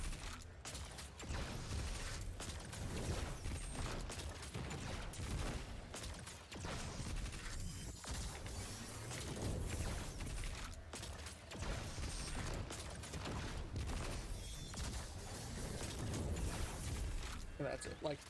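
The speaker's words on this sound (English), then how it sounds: "All it is, you fire tether off, and then rotate both crossbows." Rapid crossbow volleys in Destiny 2 fired right after a Hunter's tether, with dense mechanical shots and impacts packed through the whole stretch beneath a steady talking voice.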